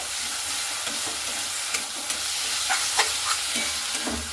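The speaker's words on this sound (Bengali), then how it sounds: "এখানে খুব ভালো মতো করে মশলাটাকে কষিয়ে নিতে হবে।" Spice paste and onions being fried down in oil for a Bengali chicken curry, with a continuous close sizzle and scattered spatula scrapes against the pan.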